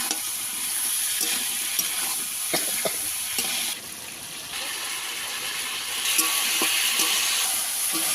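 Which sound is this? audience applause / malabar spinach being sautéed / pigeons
malabar spinach being sautéed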